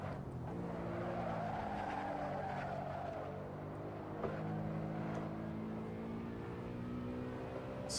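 Race car engine in Assetto Corsa during an SRS online race, droning steadily with rising and falling harmonic pitch through gear changes, with tire squeal and skidding over a continuous loud bed.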